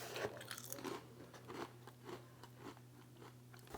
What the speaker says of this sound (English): They sound super crunchy.